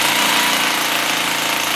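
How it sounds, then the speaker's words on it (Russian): A rotary hammer drill bores two holes into a wall while a stove-fireplace is being installed, giving a loud, steady motor whine and grinding rumble that runs unbroken and close by, with no voices. "Перфоратором в стене делаем 2 аккуратненьких отверстия."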